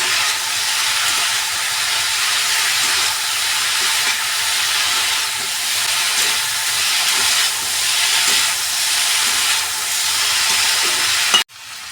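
Fish curry with potato, tomato and cumin powder cooks in a pan, giving a loud, continuous hiss and sizzle with faint rhythmic stirring beneath it, ending in a sharp clunk.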